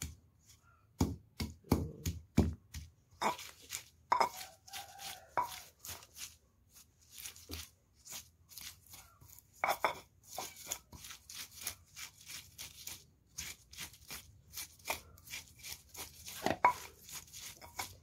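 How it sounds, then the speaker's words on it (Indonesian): Repeated dull thuds of a pestle pounding spices in a mortar, irregular bursts of knocks separated by short pauses, close and fairly quiet. "bumbu halus itu bisa di blender atau ditumbuk seperti ini tapi lebih lama"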